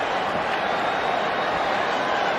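Boxing arena crowd at a Canelo vs Saunders fight, a dense continuous roar of many voices cheering at a steady loud level for the whole moment.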